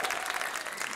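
A cabaret show audience gives a huge round of applause for the production crew, dense, loud clapping throughout with no gaps.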